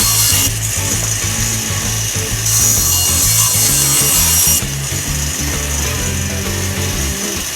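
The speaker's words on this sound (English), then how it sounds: "I'm cutting up some purple heart here as well, and I'll be using these long strips to make segmented rings." Power saw cuts strips of exotic purpleheart and Brazilian teak for segmented bowl rings, a loud steady motor whine with the rough rasp of blade biting wood in overlapping passes.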